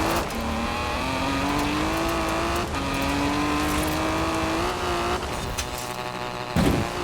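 Engine of a car driven on a dirt and gravel trail in Forza Horizon 4, a sustained loud drone whose pitch climbs through the gears, with short drops at shifts and a gritty rumble beneath.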